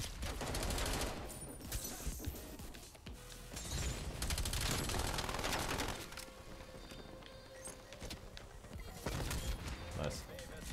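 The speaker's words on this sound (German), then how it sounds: "Da ist schon wieder ein Geschütz." Dense bursts of automatic gunfire and repeated shots from a firefight in the video game Call of Duty Warzone, loud and sustained with crashes and impacts, with players talking over the shooting.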